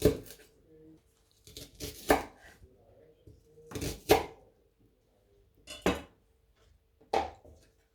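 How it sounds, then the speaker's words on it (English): Knife slicing shallots down the middle on a cutting board: a handful of sharp, separate crisp cuts and taps spaced irregularly, close and clear with quiet gaps between. "We'll start off by slicing the shallots down the middle so that we do not have ringlets."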